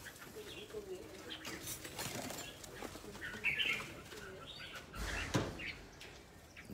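Pigeons coo softly nearby while wings flap in short bursts, with a brief knock and a rustling background, moderately faint and without speech.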